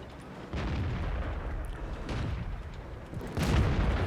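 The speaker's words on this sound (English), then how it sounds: "Gotta watch that artillery." Artillery booms in the World of Tanks video game, heard during a T-34-85M match as a dense, loud, rumbling wash of blasts that swells in two steps, with no voices.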